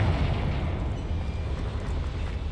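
Magical Bombarda and Confringo spell explosions in the Hogwarts Legacy video game, a dense, rumbling blast with low booming energy sustained across the whole moment, fairly quiet overall with no speech.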